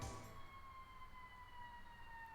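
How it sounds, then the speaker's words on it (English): A siren wails faintly with long steady tones that seem some distance away outside a house, quiet and uninterrupted, with no one speaking. "I think there's a siren coming near my house."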